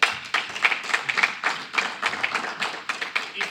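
A round of applause from a summit audience, many hands clapping in a steady, dense patter that continues throughout without speech.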